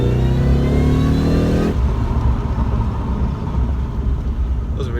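A supercharged V8 in a Jaguar XJR, fitted with a new intake pipe, revs hard and loud before dropping to a steady low rumble as the car drives on.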